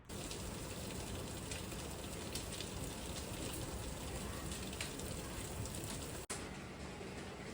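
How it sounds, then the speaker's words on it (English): Heavy rain pours down outside in a constant dense hiss, steady and fairly soft, with a brief click near the end and no talking. "It is absolutely pouring down rain and I have a canner going."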